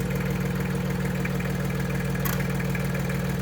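An Iseki TE4270 compact tractor engine idles steadily nearby, a loud, even low-pitched diesel chug with a fast regular pulse throughout and no speech.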